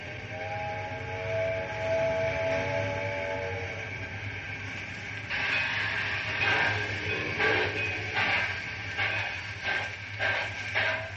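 A train whistle sounds, then rhythmic chuffing and clanking build as the train starts moving, moderately distant.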